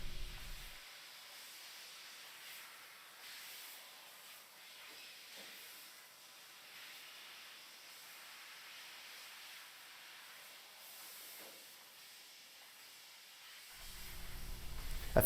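A fiber laser cuts metal parts with compressed air, giving a steady, faint hissing rush that holds evenly throughout, with no voices.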